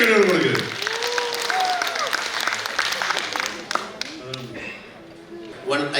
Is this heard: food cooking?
no